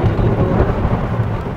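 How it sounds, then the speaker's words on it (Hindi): Heavy rain pours down in a steady, dense hiss while deep thunder rumbles underneath, loud and close, with no pauses. "देख सकते हो यार बारिश इतना जोर से दे रहा है ना"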